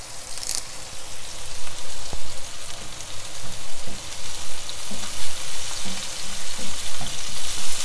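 Curry leaves crackle and sizzle loudly as they fry in a pan with onion, shrimp and black pepper. The frying hiss is dense and continuous, with occasional stirring clatter close by.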